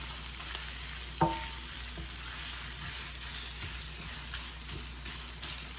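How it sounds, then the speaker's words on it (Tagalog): Meat frying in a pan seasoned with pepper and salt, a steady soft sizzle with a small clatter near the start, continuous and even throughout. "hayaan natin maluto yung karne guys"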